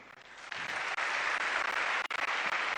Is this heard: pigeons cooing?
no